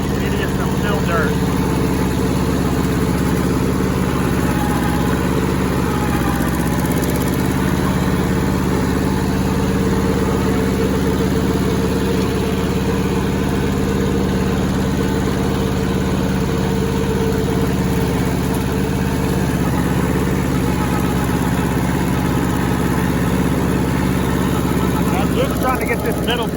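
An old rusty Hinomoto tractor runs steadily while mowing, a loud continuous low engine drone with a slightly uneven chug, close by the whole time, with voices now and then over it.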